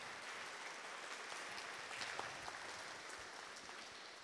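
Applause fills a conference room after a talk on effective code reviews, a faint, dense and steady patter of many hands heard from a distance for a few seconds.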